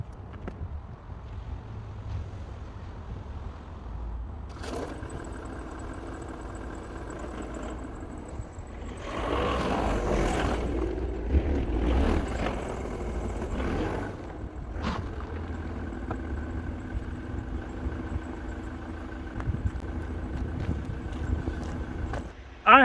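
A diesel truck engine in poor condition turns over and runs, a steady low rumble with a louder surge of revving as it pulls away, mixed with wind buffeting the microphone.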